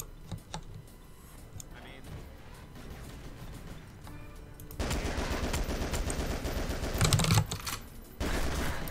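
Gunfire in the GoldenEye: Source shooter game: rapid, crackling bursts of shots that intensify partway through into dense, sustained automatic fire, with faint talk in the background.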